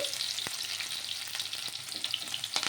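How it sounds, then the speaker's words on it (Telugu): Cumin, mustard seeds and sliced onions fry in hot oil with a loud, dense, continuous sizzle, broken by occasional light stirring clicks and seed pops, and no voices. "ఇక్కడ కొంచెం ఆయిల్ వేడెక్కిన తర్వాత జీలకర్ర ఆవాలు అయితే వేసేసుకోవాలి"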